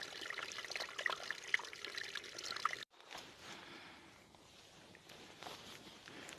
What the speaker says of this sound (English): here you see me squeezing the water into the water bottle